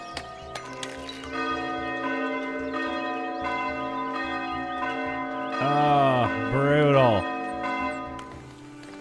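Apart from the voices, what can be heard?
church bell ringing in video game Foundation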